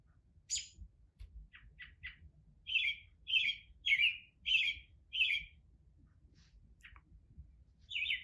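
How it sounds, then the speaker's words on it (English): A bird sings alone, starting with a few quick chirps and then a run of repeated, clear, cheerful phrases with brief pauses between them. "now let's listen to the actual bird"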